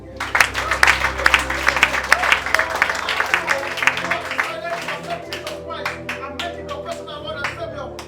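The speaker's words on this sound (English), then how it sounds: "Clap for Jesus." Church congregation clapping for a sustained stretch, dense and fairly loud at first, then thinning into scattered individual claps toward the end, with voices mixed in beneath.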